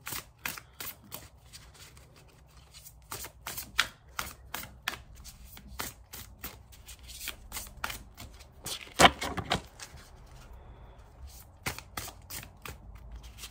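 Tarot cards being shuffled and drawn from a deck, a run of sharp, quick flicking and tapping clicks with brief pauses and one louder flurry of riffled cards near the middle, close and without talking.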